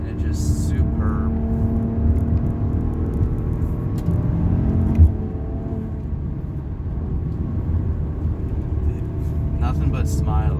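A 2019 Maserati Ghibli Q4S rounds a corner, its engine holding a steady, loud interior drone and whir that swells briefly midway. A person talks over it.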